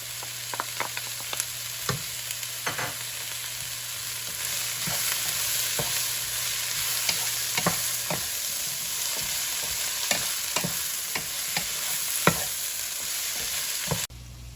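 Garlic and ginger stir-frying in a pan for an Ethiopian vegetable-and-meat dish: a steady sizzle runs close up under repeated sharp spatula scrapes and taps that come in irregular bursts.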